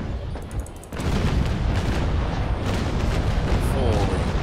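A ship's cannons fire in the naval combat game Naval Action aboard the Bellona: a heavy booming burst breaks in after a quieter moment and rolls on as a dense, continuous rumble.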